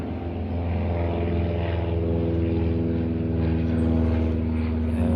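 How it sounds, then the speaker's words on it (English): A propeller aircraft drones steadily overhead, a continuous low engine hum with layered harmonics holding at an even, moderate level throughout with no talk. "there's an aircraft flying overhead"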